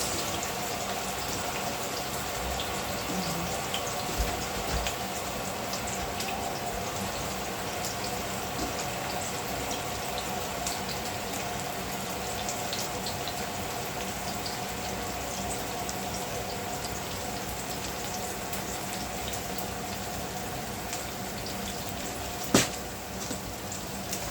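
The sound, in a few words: water running from tap while washing hands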